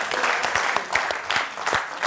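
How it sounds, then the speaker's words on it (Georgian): A studio audience claps steadily on a comedy game show, a dense, even patter of many hands close by that holds for about two seconds with no talk over it. "აიხარეთ თქვენ აპლოდისმენტები გავახსნათ"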